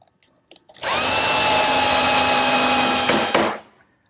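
A power drill drives screws into a wooden cupola frame in a workshop. One loud, sustained whine lasts nearly three seconds after brief ticks, then cuts off abruptly, with no talk.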